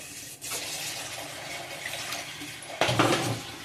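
Water splashes steadily into a pot from a tap, a continuous hissing pour that grows louder and heavier near the end.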